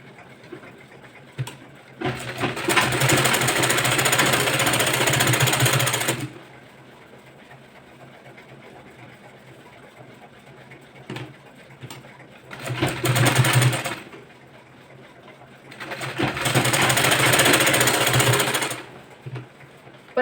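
Sewing machine joining the front and back pieces of a boat neck blouse, running in three bursts of steady, fairly loud stitching whir separated by quiet pauses.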